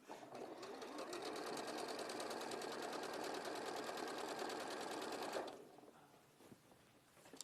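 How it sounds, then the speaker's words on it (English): A sewing machine stitches fast and steadily for about five seconds, a close, rapid mechanical whir, then stops, leaving faint room noise. "Just while Tash is stitching that, 4 to 40."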